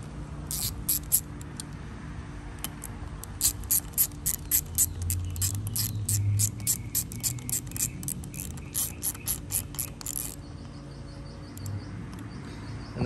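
A ratchet wrench tightens a bolt on an Evinrude 150 outboard's starter: close, rapid bursts of sharp clicks come in a steady rhythm, with pauses between strokes and a low background hum.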